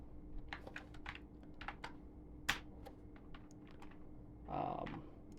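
Keys clatter on a computer keyboard in quick, irregular bursts of close, light taps, with one louder keystroke and a brief soft rustle near the end, over a quiet room hum.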